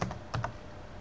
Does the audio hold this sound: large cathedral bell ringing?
no